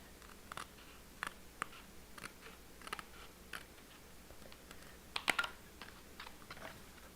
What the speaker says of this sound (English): But I'm just going to go along this with scissors.